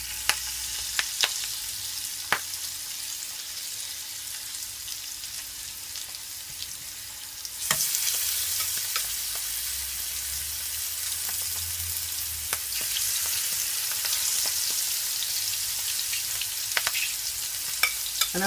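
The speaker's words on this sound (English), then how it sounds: "I'm gonna fry my prawns and I'm gonna also fry my sashes" Prawns and smoked sausage frying in hot oil in a pot: a quiet crackle with scattered pops and clicks swells abruptly into a loud, steady sizzle midway, continuing close and busy with occasional sharp spatters, no voices.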